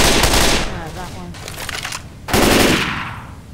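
Heavy automatic gunfire in the Left 4 Dead 2 video game, loud close bursts in two main volleys with a quieter stretch between, and players talking over it.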